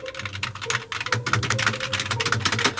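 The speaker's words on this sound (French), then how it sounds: "Le son est agréable et c'est un putain de clavier métallique." Fingers typing on an Enzotech Weather E11 metal-bodied keyboard, rapid irregular clacks in quick bursts, close and clear over a faint low hum.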